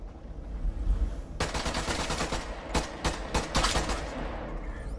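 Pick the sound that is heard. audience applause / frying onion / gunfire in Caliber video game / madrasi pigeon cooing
gunfire in Caliber video game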